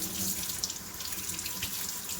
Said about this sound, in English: Rinse them off first, and then wash them.